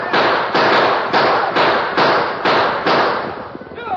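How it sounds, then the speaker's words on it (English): Gunfire sound effect in a radio drama Western, a rapid series of about eight sharp, loud shots at a steady rhythm, the last ones trailing off into a brief tail of noise. "Riding hard, the homesteaders and the ranchers fired on the Indians."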